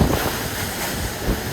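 Heavy seas and roaring gale-force wind of over 50 knots aboard the Maxi Edmond Rothschild racing sailboat in the Vendée Globe, a loud, constant rush of wind buffeting the microphone over crashing surf.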